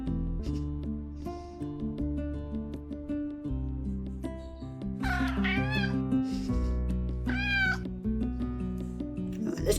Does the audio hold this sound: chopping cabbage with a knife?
no